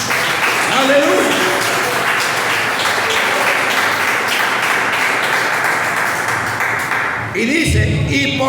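A church congregation applauds loudly and continuously, a thick wash of many hands clapping that fills the room, with voices calling out over it before a speaking voice breaks in near the end.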